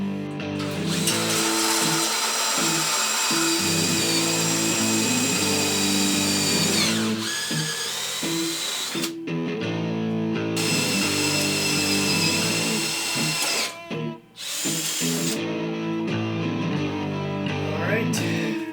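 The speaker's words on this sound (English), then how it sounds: "So now I can drill anywhere outside this line" A power drill boring a hole through a metal wagon axle, whining loudly and steadily in several long bursts separated by brief pauses.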